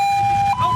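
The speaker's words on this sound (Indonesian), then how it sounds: "Pelaku mengaku tidak senang dengan suara sirene ambulan." An ambulance siren wails loud and close in a steady high tone, with a short break and a pitch change near the end.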